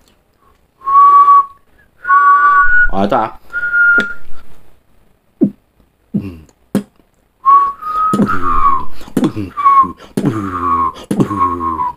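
Someone whistles a series of short, clear notes close by, alternating with spoken remarks and puffs of breath.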